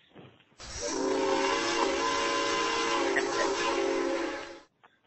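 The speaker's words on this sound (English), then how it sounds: "That's the Ramsey freight train heading into the ice vault on Friday night." A freight train whistle, steam-type in tone, sounds loud and steady for about four seconds, rising abruptly and cutting off with no talk over it, heard during a hockey broadcast.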